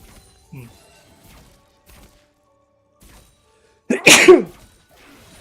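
A single sharp, loud sneeze bursts out near the mic after a stretch of quiet, a brief explosive burst within a League of Legends coaching session.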